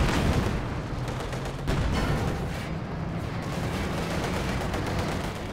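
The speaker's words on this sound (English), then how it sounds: "Field gun opening up." A field gun fires in a Company of Heroes 2 battle amid dense game combat noise, with booming blasts and crackling gunfire layered over a constant loud rumble, and no voices heard.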